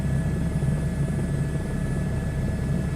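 An H125 helicopter flying in a video game, a steady, loud, close rotor and engine drone with a low thudding throb that holds unbroken throughout.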